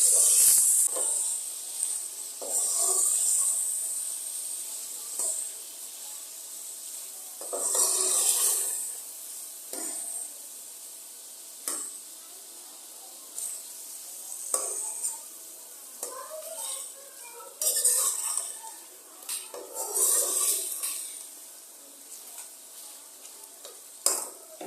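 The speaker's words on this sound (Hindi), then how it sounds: "तकरीबन 5 मिनट तक हम अदरक लहसुन के साथ चिकन को भून लेंगे" Chicken fries with ginger and garlic in a pan, sizzling with intermittent stirring scrapes and hissing bursts, close and steady over a long stretch, no speech.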